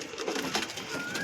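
Tournament racing pigeons kept for sale coo softly nearby, a few low murmuring calls over light background rustle, with no speech.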